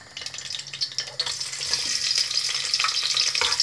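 Onions sizzling in about one and a half spoons of hot oil in a pan for tarka dal chana, a steady loud crackling fry with occasional stirring, no talk.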